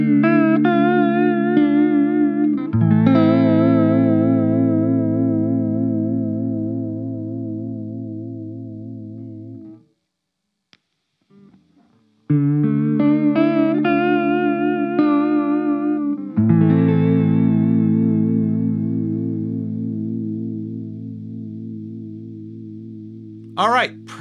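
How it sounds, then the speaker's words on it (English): A guitar passes through a BBE Mind Bender and then a VB2 chorus/vibrato pedal, heard back to back. Sustained chords wobble with a swirling modulated shimmer, with a short silent gap between the two pedals. "let's just listen to the Mindbender and the VB2 back to back"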